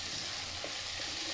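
Chicken keema fries in a pan, giving a short, steady, moderately quiet sizzle with light stirring texture and no voices.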